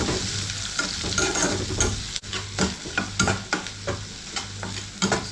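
Two medium-sized onions tipped into hot oil with tempering for an Assamese chana dal, sizzling steadily while a spoon stirs them with repeated scraping clatters, close and continuous without talk.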